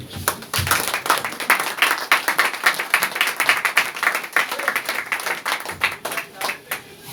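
A church congregation applauds and cheers for the Lord, with rhythmic, close clapping pulsing steadily alongside voices.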